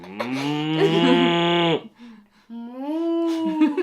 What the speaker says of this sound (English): Do you mean like a moo cow, like a moon cow?